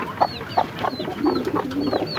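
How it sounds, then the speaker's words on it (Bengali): Farm chickens eating give off steady soft clucks and a few higher chirps, repeated at an irregular pace at moderate distance, with no speech over them. "মুরগিগুলো খাইতেছে"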